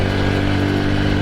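A 1985 Honda Cub 90 motorcycle runs with a steady, loud, buzzing single-cylinder engine drone at close range, unbroken for the whole short stretch, with no voices.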